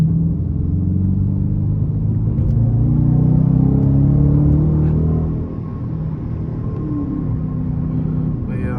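A Dodge Challenger R/T cruises along a street with a deep, steady engine rumble heard from inside the car, swelling as it pulls ahead and then easing back to a low drone.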